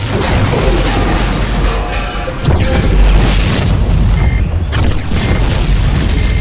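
In the StarCraft 2 video game, a spaceship's warp drive breach sets off loud, rumbling booms, one heavy blast followed by continued roaring explosions and debris noise.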